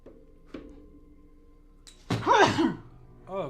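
A single sudden, close sneeze bursts out mid-clip against a quiet background with a few light knocks, followed by a short vocal sound.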